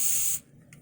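A short close burst of hairspray from an aerosol can hisses for under half a second, then cuts off, leaving near silence with a faint click.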